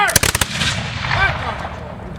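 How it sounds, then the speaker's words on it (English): Blank musket volley at a historical Canadian war reenactment, firing without lead balls: a ragged burst of several close, loud cracks rather than a single report, followed by rolling echo and crowd murmur. "Once the muskets get warmed up a little bit and they get used to the sergeant's timing again, it should sound as one crack coming out."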